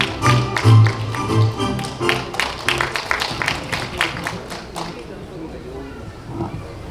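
Audience applause at an outdoor award ceremony for a literary prize during a local festival, a burst of many hands clapping that swells briefly then fades out after about five seconds, with faint background murmur.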